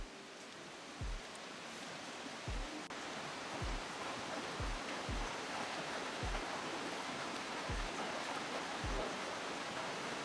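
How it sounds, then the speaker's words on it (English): Tibumana Waterfall in Bali roars as a steady, broad rush of falling water, with soft periodic thumps underneath and no talking. "Tibumana Waterfall."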